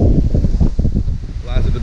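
Strong hurricane wind from Hurricane Irma blows outside a house, a loud, continuous roaring rush with gusty surges buffeting the microphone throughout.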